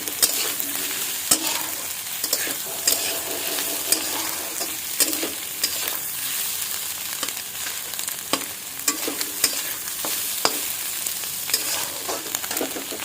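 Egg masala Maggi ingredients stirred and frying in a pan: steady bright sizzle with scattered scrapes and clicks of a spatula, close and continuous, no voices.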